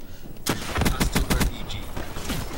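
Shotgun fire in Black Ops 3 Gun Game: a burst of loud, sharp blasts in quick succession, several close together, then scattered quieter hits and game noise.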